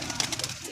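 A pigeon coos close by in a short, soft, throaty burst, standing alone without talk.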